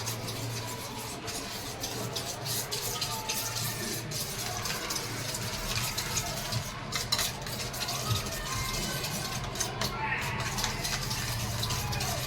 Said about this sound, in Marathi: हे सगळं एकजीव करून घ्यायचं आहे आपल्याला